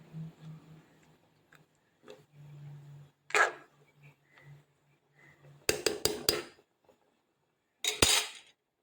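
A pot of mackerel curry made with ground coconut gets a light stir, with sharp metallic clinks and scrapes of a spoon against the pot in short bursts over a low steady hum.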